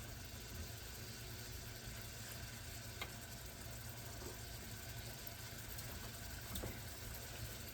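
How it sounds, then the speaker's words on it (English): Finely chopped onions sauteing in a pan for chicken Florentine, a steady low sizzle throughout, faint and even with a few small clicks. "I'm sauteing them, and I chop these onions up, like I said, really little"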